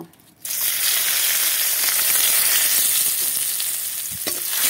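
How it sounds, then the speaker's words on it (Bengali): Dry red chillies, bay leaf, cardamom, cinnamon and cloves go into hot oil left from frying potatoes, and a loud, sustained sizzle bursts up right away and stays strong and steady, with a light tap near the end. "ভাজা তেলের মধ্যেই দিয়ে দেবো কটা শুকনো লঙ্কা, তেজপাতা, এলাচ আর দারচিনি, লবঙ্গ"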